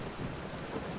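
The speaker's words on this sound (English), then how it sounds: "It's raining again." Steady rain with a low thunder rumble in a video game story quest, an even wash of rainfall filling the short moment without any voices.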